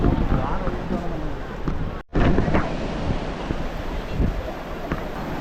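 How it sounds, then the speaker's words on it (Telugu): Surf rolls in at Kovalam beach in Kerala, a steady broadband wash of breaking waves mixed with wind buffeting the microphone, with people talking faintly nearby. "నేను కేరళ వచ్చాక ఎక్స్పీరియన్స్ అవుతున్న ఫస్ట్ బీచ్ ఇది"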